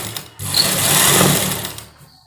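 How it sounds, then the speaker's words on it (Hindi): A sewing machine stitches a salwar seam in one short continuous run, a close, steady whirring burst that rises, holds and fades, with no talk over it. "सीधी इसके ऊपर हम सिलाई लगाते जाएंगे इस तरह से"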